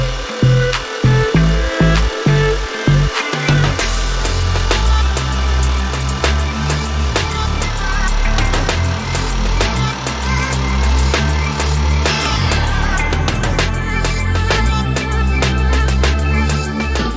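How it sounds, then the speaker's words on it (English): A milling machine cutting the top off an aluminium blank cast from melted cans: a loud, continuous grinding and whirring, starting with a few rhythmic knocks, then a steady harsh scraping with shifting tone. "We cut off the top part of the blank using a milling machine."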